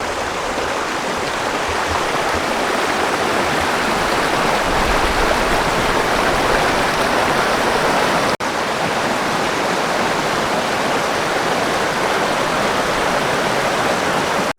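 A river at a campground rushes past under a tree, a steady, loud, broadband wash of flowing water that stays constant throughout with no talking.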